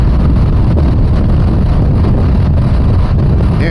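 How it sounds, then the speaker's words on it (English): Heavy wind buffeting a microphone while riding near Lake Mead, a loud, constant low roar that fills the whole clip without letting up, with no talk. "I don't hear anything but wind."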